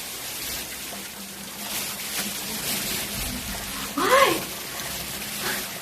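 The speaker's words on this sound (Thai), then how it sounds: "โอ๊ยตอนนี้ฝนตกหนักเลยค่ะ" Heavy rain pours down outdoors near a bus stop as a steady, loud, broadband hiss that fills the whole stretch, with someone talking over it throughout.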